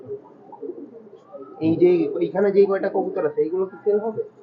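Red-necked highflyer pigeons cooing close by, a run of soft throaty coos that swells after a quiet start.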